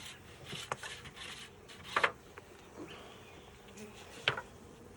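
Honey bees buzz faintly around an open beehive during an inspection, with brief scraping and rubbing knocks of wooden hive parts.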